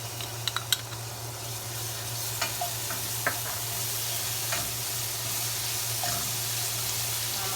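Garlic and shallot frying in bacon fat in a pan, a steady low sizzle with a few light clicks and taps of a utensil scattered through, continuous and moderately close.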